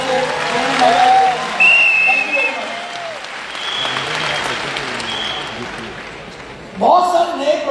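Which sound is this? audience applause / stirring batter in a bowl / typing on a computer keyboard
audience applause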